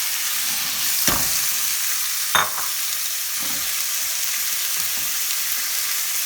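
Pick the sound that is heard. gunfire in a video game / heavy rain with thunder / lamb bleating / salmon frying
salmon frying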